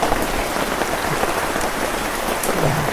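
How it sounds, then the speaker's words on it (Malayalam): Mustard seeds, curry leaves and chillies frying in hot oil for a curry give a steady, dense crackling sizzle that carries on without a break for the whole stretch, with no voices. "അതാ കൂട്ടാൻ വറുത്തിടുന്നു ഉരുവയും കറിവേപ്പലയും മുളകൊക്കെ"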